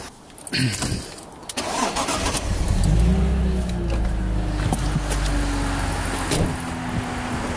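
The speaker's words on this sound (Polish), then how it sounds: "silnik sobie chodzi normalnie na ciśnieniu kompresora" A car engine cranks and catches, then settles into a steady, close idle running on compressor pressure during home fuel injector cleaning, with a few clicks and knocks on top.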